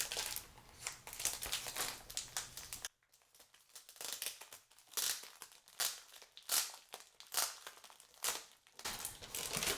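Washi paper and calligraphy sheets rustled and crinkled while a parcel from Japan is unpacked, continuous close crumpling and crackling with a brief quiet pause partway through.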